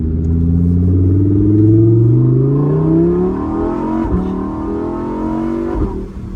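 Lamborghini driving at an easy pace, heard from inside: a loud, deep engine rumble with rising and falling rev tones as it accelerates and shifts, plus a couple of small thumps, with no talking.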